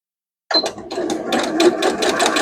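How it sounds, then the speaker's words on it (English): A sewing machine starts after a moment of silence and stitches a side seam with half-inch seam allowance, its rapid mechanical whir running close and continuous to the end. "So I'm going to sew all the way down to the second notch,"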